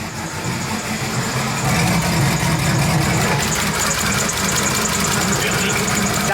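Chevrolet Silverado with a 5.3L V8 and aftermarket headers idles with a steady, loud, close rumble, its tone constant throughout with no voices over it.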